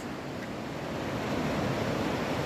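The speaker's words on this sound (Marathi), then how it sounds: "ही लोहित नदी, जबरदस्त पाण्याचा प्रवाह." The Lohit river in the mountains of Arunachal Pradesh rushes in a strong, steady flow, a loud broadband roar of churning water that swells slightly and continues without pause.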